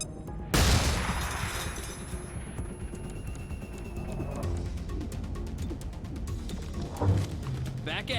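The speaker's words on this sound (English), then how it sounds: "Tossing flashbang" A flashbang grenade going off in XCOM: Chimera Squad, a sharp bang near the start, then a quieter stretch of crackling and room noise with a second thud later, under someone talking.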